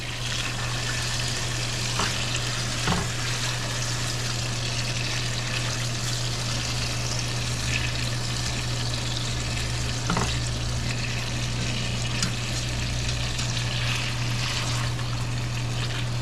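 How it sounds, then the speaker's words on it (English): Chicken browns in a pan on a stovetop for a Moroccan chicken dish, giving a steady, continuous frying sizzle throughout, with a few faint clicks of handling and no talking. "I want to brown the meat."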